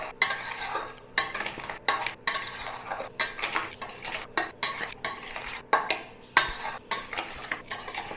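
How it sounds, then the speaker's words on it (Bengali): A spoon stirs a raw mango pickle mixture with spices and freshly added oil, giving repeated rhythmic scraping and clinking strokes close by with short pauses between them and no talking. "ভালো করে ফের মিশিয়ে নেবো"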